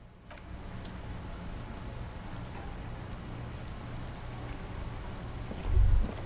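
Steady rain in the video game Disco Elysium, a continuous soft hiss of falling water with a low rumble underneath, holding even throughout and swelling briefly near the end.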